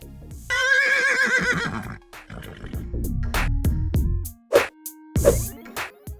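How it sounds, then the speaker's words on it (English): A horse neighs and whinnies loudly, a long shaky call followed by shorter snorts and nickers, with no voices. "This strong animal is a horse."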